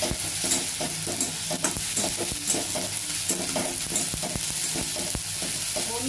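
Ginger and chilli paste sizzling in a hot pan, a dense continuous fry with frequent quick scrapes and clicks of a spoon, loud and close, no speech.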